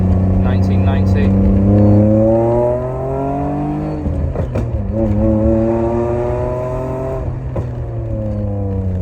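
A modified 1990 BMW E30 fitted with an E46 engine, a six-cylinder swap on a lowered car with an oil leak, revs and accelerates loudly, its engine note rising and falling through gear changes close by.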